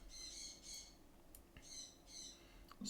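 Pet birds chirp and squawk indoors in short repeated bursts, a few calls spaced across the moment, fairly faint behind a quiet room with no talking.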